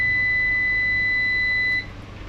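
A multimeter gives a steady continuity beep when probing a 19-volt filter capacitor on an HP laptop motherboard with a shorted power rail, one sustained tone lasting almost two seconds before cutting off.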